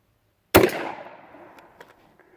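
A single full-choke F.I.E. Hatfield .410 shotgun fires one sharp, loud outdoor blast after a moment of silence, followed by a fading echo and a few small knocks.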